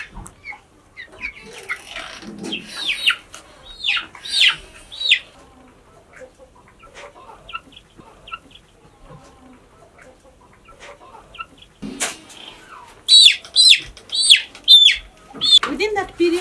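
Chickens cluck and squawk in short, sharp bursts close by during fowl pox vaccination on a farm, loudest in a rapid cluster near the end, with quieter handling noises and some talk between calls.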